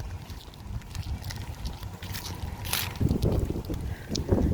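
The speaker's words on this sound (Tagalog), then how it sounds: "So very windy, guys." Strong wind after a hurricane buffets the microphone outdoors on a residential street, a steady low rumble with gusts that swell louder toward the end.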